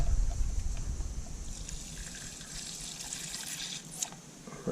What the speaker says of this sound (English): we're going to get the rest of this antifreeze out of the